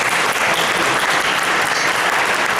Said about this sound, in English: please give a round of applause for all his efforts